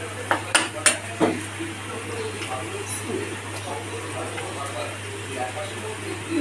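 Turmeric, chili and salt are stirred in a pan while being fried. A few sharp clinks of a utensil against the pan come early, then a soft sizzle and gentle stirring continue at a low level.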